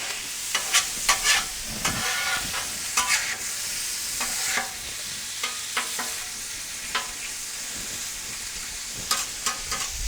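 Hibachi-style food fries on a propane Blackstone griddle outdoors in wind, a steady sizzle broken by bursts of metal spatula scraping and tapping against the flat top, with no talking.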